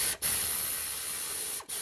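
WD-40 lubricant sprays in a loud, close hiss onto a sway bar bushing under a 2011 Subaru Outback, cut by a brief pause near the start and another near the end.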